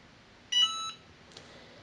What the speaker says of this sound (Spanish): Ahora que ya ha sonado el pitido y se ha puesto la lucecita en verde